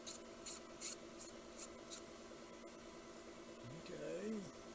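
Six quick, faint rasping strokes of a file dressing the bottom edge of a model railway turnout rail come in an even rhythm at first, then give way to quiet room tone.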